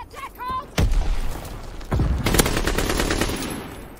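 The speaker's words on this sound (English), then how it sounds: "Teammate, you're shooting at me." Gunfire in a Call of Duty game, heavy bursts of close shots in two main volleys, with brief game voice or radio chatter at the start.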